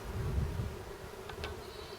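Mountain Grey Caucasian honeybees buzzing around a hive during an inspection, a faint low hum close by with a couple of brief higher tones, no voices.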